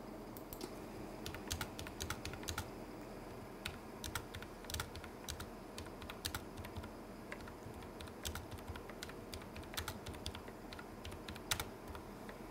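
Keys on a computer keyboard clack in quick irregular bursts, moderately close but fairly quiet, over a steady background hum during an amateur radio data-mode session.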